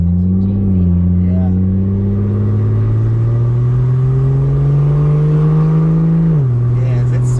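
A 1985 Toyota Supra MK2 fitted with a 2JZ-GTE engine drives nearby, its loud, smooth engine note holding steady, briefly rising and dropping with gear changes, while people talk over it.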